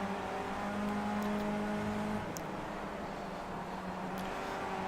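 A race car laps the VIR Grand West circuit, its engine droning steadily and loud from inside the cockpit, with a sustained tonal whine that holds and shifts slightly in pitch.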